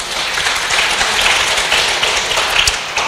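A Protestant church congregation claps in thanks to God during a sermon, a dense, loud, steady burst of many hands applauding together.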